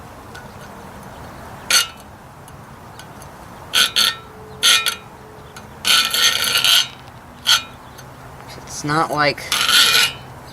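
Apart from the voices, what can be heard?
hand filing a knife blade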